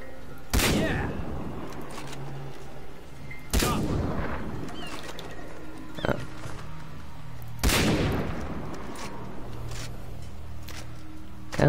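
Gunfire in Far Cry 3, three loud, widely spaced shots with booming tails over a steady game ambience, plus a smaller crack between them.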